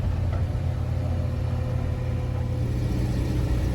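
A vintage Thames car trundling along on a test drive, its engine giving a steady, close, low rumble with an even drone and no voices.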